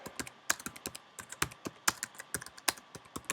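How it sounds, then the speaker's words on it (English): Someone types text into a WordPress page editor on a computer keyboard: rapid, irregular keystrokes clatter close and crisp, with no voices. "This is where you will type text"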